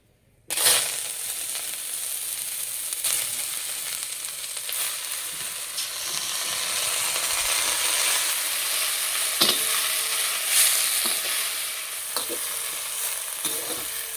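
After a brief silence, amaranth greens hit hot ghee in a brass pan and burst into a loud, continuous sizzle, with occasional stirring clinks and scrapes throughout, heard up close without speech.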